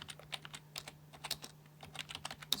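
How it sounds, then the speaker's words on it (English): A command being typed on a computer keyboard: light, fast keystrokes in an uneven rhythm at close range, faint against a low electrical hum, with no speech. "So we just type in"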